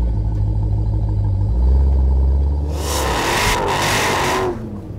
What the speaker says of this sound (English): The straight through design controls the exhaust note for daily driving, but keeps the iconic Magnaflow sound